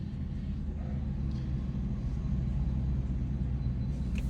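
BMW M4 exhaust, a deep, low rumble that holds steady throughout, fairly quiet and somewhat distant, with no clear separate burbles standing out.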